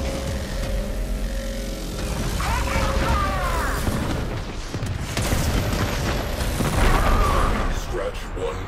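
Ship weapons firing and explosions in space combat in the video game Warframe's Railjack mode: dense, continuous booms and mechanical bursts, loud and close, with a voice talking over them.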